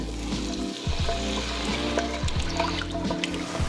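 Broth poured into a hot pan for green bean casserole, a loud continuous sizzle and splashing hiss with bubbling and stirring throughout, close and busy.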